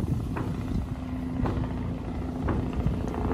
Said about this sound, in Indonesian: ada helikopter juga